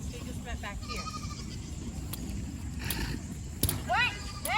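Sheep bleat several times on a farm, with short wavering calls spread across the clip and a clearer pair near the end. Other farm noises are mixed in, and people talk nearby.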